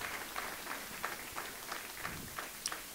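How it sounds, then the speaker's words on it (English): Scattered applause from a church congregation at an event in Dubai, a steady, moderately distant patter of many hands with small peaks, fairly quiet and without talk. "Give a better clap offering to Jesus Christ."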